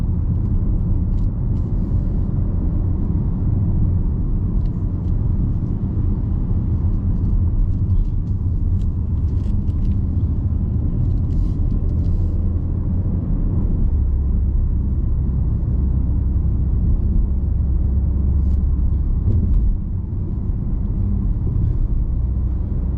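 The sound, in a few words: Audi SQ5 3.0 BiTDi driving on test drive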